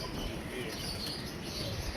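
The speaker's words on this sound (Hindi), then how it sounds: "दोस्तों एक और कबूतर निकल के आ रहा है" A pigeon coos faintly amid steady outdoor background noise, a brief soft call with no speech, during a pigeon flying contest.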